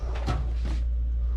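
A drawer slides open with two quick scraping movements close up, set against a steady low hum and nothing else.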